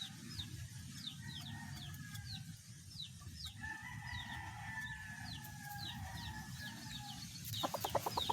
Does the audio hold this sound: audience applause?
no